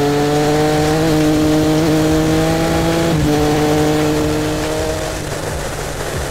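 Triumph Speed Triple 1050 RS roadster motorcycle engine accelerating hard, a loud close rising triple-cylinder howl that climbs steadily before easing off near the end, heard alone.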